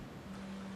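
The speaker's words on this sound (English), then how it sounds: "you can hear the fish tanks bubbling in the background" Aquarium fish tanks bubbling in the background make a steady, soft hiss of aeration with a low, even hum running underneath, continuous and unbroken, with no voices.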